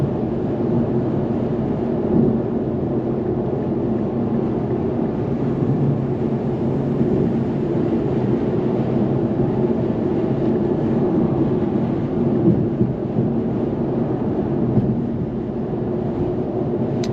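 Infiniti Q50 Red Sport 400 twin-turbo cruising on a sunny day, a continuous low engine drone and road rumble heard from inside the car, steady and even throughout with no one talking.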